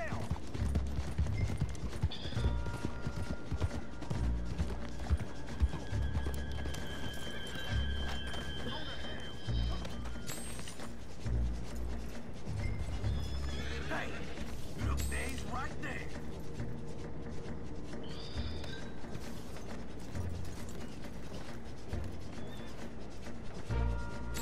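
A horse gallops and neighs in the Red Dead Redemption 2 video game, with continuous clip-clop hoofbeats, a whinny, and voices talking over busy game ambience.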